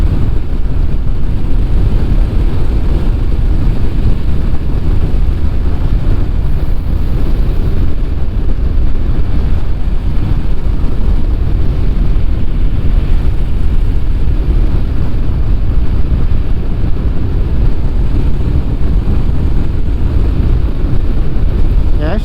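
Steady loud rumble and rushing wind of a Honda VFR motorcycle ridden on the road after a flood, constant engine drone under heavy wind buffeting, with no talking.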